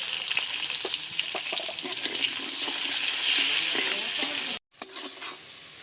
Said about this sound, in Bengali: পেঁয়াজ আর রসুনটাকে একটু ভেজে নিয়েছি।